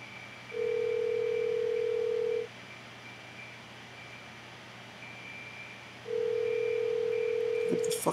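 A telephone rings in two long, steady electronic tones separated by a pause, heard alone over a faint background hiss with no voices.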